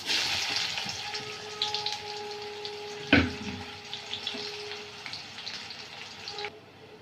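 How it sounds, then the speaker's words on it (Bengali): Cumin seeds, chili and chopped onion sizzle and crackle in hot oil, loud at first then settling, with a sharp clatter of a utensil midway and occasional stirring. "তেলটা গরম হয়ে গেছে আমি গোটা জিরে দিয়ে দিলাম আর একটা সময় লঙ্কা দিয়ে দিলাম দিয়ে পেঁয়াজ কুচি দিয়ে দিলাম"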